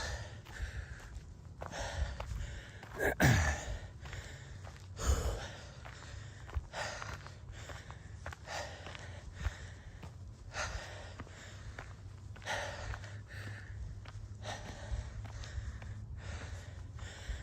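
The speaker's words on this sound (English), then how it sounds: "you guys are gonna have to listen to me breathing hard today, at least until we get to the top" A trail runner breathes hard while running uphill: heavy, rhythmic panting and gasps close to the microphone, with faint footsteps and brief sighs throughout.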